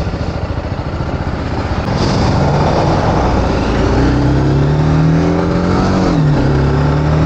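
A Suzuki Alto engine revs up loudly and accelerates close by, its pitch rising steadily as it speeds past, with steady road roar throughout.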